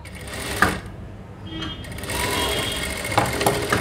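A sewing machine stitches folded fabric for a high-neck blouse, whirring in a close continuous run that pauses briefly in the middle, with a few mechanical clunks.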